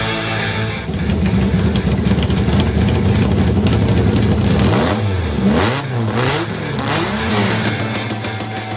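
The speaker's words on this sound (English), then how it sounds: "another car sound from the vaults." A TVR Cerbera engine revs loudly and close, a sustained throaty roar followed by several sharp rising-and-falling blips of the throttle, with no voices.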